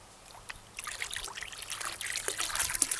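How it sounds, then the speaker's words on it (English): Water trickles from a hose draining a pool sand filter, a steady soft splashing dribble that grows a little louder after the first second and runs continuously with no voices. "Just water coming out. There's no sand, there's no dirt or anything coming out."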